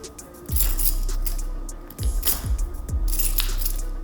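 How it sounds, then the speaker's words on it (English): A set of keys is picked up in a Foley recording, giving a few bright metallic clinks and jingles over quiet background hum, close and with no talking. "Foley audio for keys."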